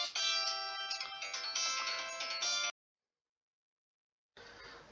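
Phone ringtone playing a bright melodic chime tune loudly, cutting off abruptly, then after nearly two seconds of silence starting again near the end, no voices.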